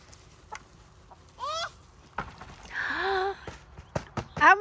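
Backyard chickens near a compost area give short clucks and rising squawks in scattered bursts, close by, with soft thumps and rustling in between and a person speaking quietly.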